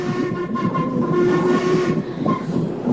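A train rumbles steadily with faint clickety-clack and a sustained whistle-like horn tone over it, moderately loud and continuous, with no voices.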